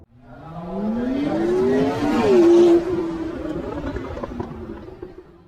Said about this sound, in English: Mobile, sports car.